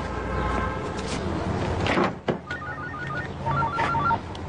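A mobile phone rings with a repeating electronic ringtone, short patterned beeps in a few bursts over a busy indoor background with clatter and a thump.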